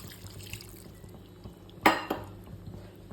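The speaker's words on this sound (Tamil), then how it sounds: "இந்த கறி வேகிறதுக்கு தேவையான அளவு கொஞ்சம் தண்ணி சேர்த்துக்கலாம்." Water poured into a pot of meat curry on the stove: one brief splash and clatter midway through a quiet kitchen background, with no voices.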